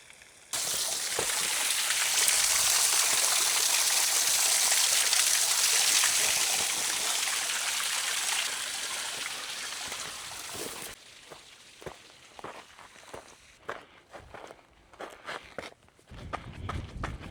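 Trail runner in Hoka Speedgoat 7 and Kiprun Kipsummit Max shoes splashing through water, a loud steady wash of splashing for about ten seconds, then quieter squelchy, irregular footsteps on wet ground afterward.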